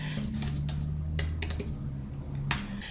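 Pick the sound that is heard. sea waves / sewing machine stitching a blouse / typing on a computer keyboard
typing on a computer keyboard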